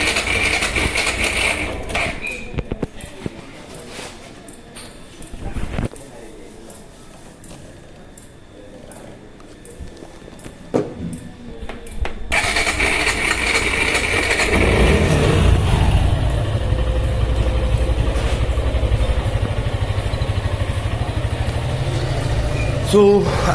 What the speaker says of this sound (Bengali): সো আমি এখন বাইকটা স্টার্ট দিচ্ছি।